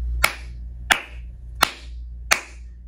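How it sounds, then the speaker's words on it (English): One person clapping hands four times at an even, slow rhythm, each sharp clap close and distinct with quiet gaps between. "give myself a round of applause"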